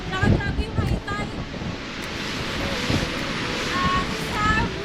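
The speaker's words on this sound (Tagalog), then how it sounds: "Grabe naman tong hangin na to." Strong storm wind buffeting the microphone over crashing high-tide waves on a beach, a constant loud roar with brief faint sounds in it.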